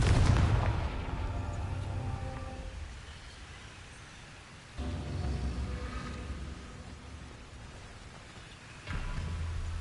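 Confringo fire spell cast in Hogwarts Legacy on PS5: a loud booming blast at the start, followed by a second explosive burst near the middle and a third toward the end, each with a rumbling low tail.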